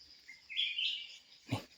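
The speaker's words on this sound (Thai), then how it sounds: "นี่เสียงนก" Birds call in hill country, a thin high chirping trill holding steady for about a second, then a brief sharper call near the end, moderately distant against quiet open air.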